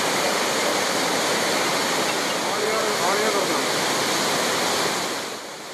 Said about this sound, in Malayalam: കനത്ത മഴയെ തുടർന്ന് ആളിയാർ ഡാമിന് ഷട്ടറുകൾ തുറന്നതോടെ ചിറ്റൂർ യാക്കര പുഴകളിൽ വെള്ളം കുത്തിയൊഴുകിയെത്തി